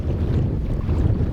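Strong wind howls through a narrow gap on the Thelon River in the Barrenlands, a steady, loud roar of gusts buffeting the microphone with low rumbling noise throughout, no voices.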